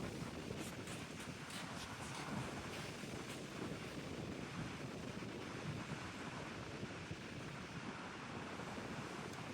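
Continuous sea waves wash and break along the shore on a fishing outing, a steady rushing surf mixed with wind buffeting the microphone, with no voices.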